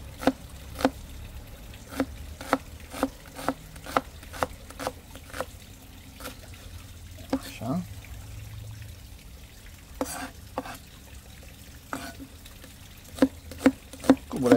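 Chopped onion sizzles and spatters as it fries in a small pot, with sharp pops and crackles scattered irregularly over a steady, quiet hiss and occasional stirring.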